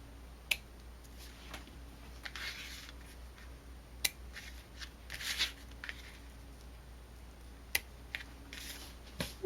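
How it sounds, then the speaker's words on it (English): Scissors snip the ends of a ribbon bow on a pop-up box card, giving a few soft, sharp clicks spread out and alone over quiet room noise. "I'm going to trim the ends a little shorter."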